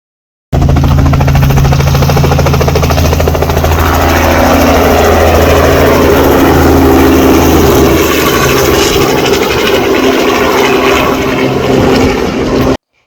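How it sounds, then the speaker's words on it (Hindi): A helicopter starting a ride at Patriots Point beside the USS Yorktown aircraft carrier roars loud and close, with a continuous engine whine and rotor chop that holds throughout. "जब हम लोग वहाँ पे पहुँचे तभी एक हेलीकॉप्टर राइड स्टार्ट हो रही थी।"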